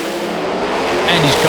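A British pro mod drag racing car roars loud and close through a run at a championship round, its engine note steady then rising slightly, with a commentator talking over it.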